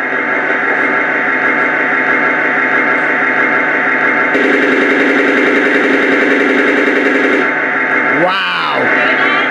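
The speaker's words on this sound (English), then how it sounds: "One more cannon shot!" An RC toy tank's electronic sound unit plays a loud, continuous buzzing engine tone. A rapid-fire burst joins it for about three seconds, then a swooping cannon-shot effect sounds near the end.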